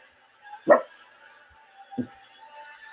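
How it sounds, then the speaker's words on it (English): A dog barks twice nearby, one sharp loud bark followed about a second later by a softer one, over a low steady background hum. "Sorry, my dog."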